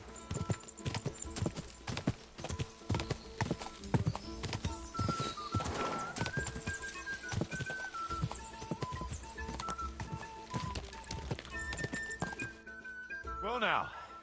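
Horse hooves clip-clop steadily through Kingdom Come Deliverance 2, a quick, continuous trotting rhythm close by, mixed with music and people talking over it.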